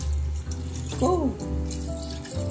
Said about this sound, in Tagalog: Lagyan natin itong ating gatang binili sa palengke.